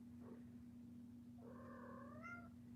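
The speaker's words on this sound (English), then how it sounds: "They really just change their frequency of meow when they respond." A cat gives a short, faint chirp, then a longer rising meow close by, over a steady low electrical hum.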